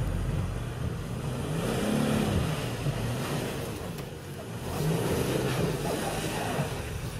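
A Mercedes-Benz GLE 350d diesel SUV revs with stability control switched off to spin the wheels, its engine note rising and falling in two swells at moderate distance.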